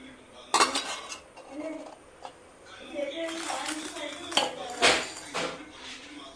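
A metal pot is set onto an idli steamer vessel filled with water, making close clattering clinks and scrapes of metal on metal in bursts. Speech is heard in the background.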